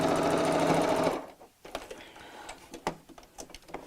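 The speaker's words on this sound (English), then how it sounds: "I'm just going to sew, oh, it's out of the way thread, straight across the bottom to close that" Sewing machine stitching straight across the bottom of a fabric tote bag, a fast even mechanical chatter for about a second that then stops, followed by quiet fabric handling and small clicks.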